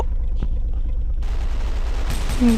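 Gunfire in the video game GTA V: a few sharp, isolated shots early on, then a denser burst of game noise with a bright report near the end, all fairly loud.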